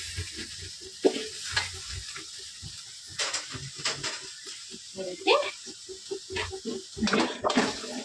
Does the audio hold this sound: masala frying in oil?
yes